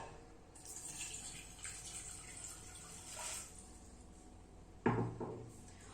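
Water poured into a vessel in a home kitchen to make a ginger decoction for cough, a faint, hissing trickle in short streams, followed by a closer clunk of a container near the end.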